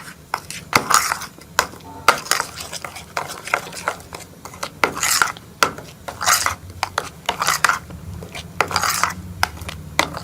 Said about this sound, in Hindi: इन सारी चीज़ों को अच्छी तरह से मिक्स कर लेंगे